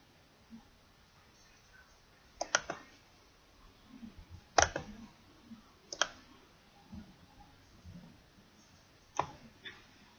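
A computer mouse clicks sharply and sparsely during QuickBooks bill-paying work, a few distinct clicks spread over a quiet room with faint background hiss.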